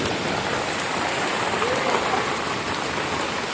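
Constant hissing heavy rain falls evenly and fairly close in Konkan, a dense patter with no other sounds standing out.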